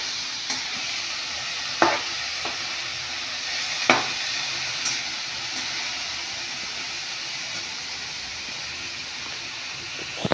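Dill greens frying and sizzling in a pan with garlic, salt and chilli, stirred so the spatula gives a few sharp scrapes and knocks over a steady hiss; no one speaks.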